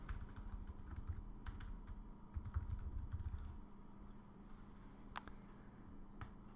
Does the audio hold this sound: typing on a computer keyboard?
yes